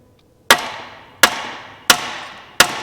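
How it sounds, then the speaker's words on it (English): Four sharp, evenly spaced knocks as a tool taps the crankshaft end of a Stihl 041 chainsaw to split its housing, each strike close and loud with a short ringing decay, no voices. "tap on this side of the end of the crank, and it's coming apart."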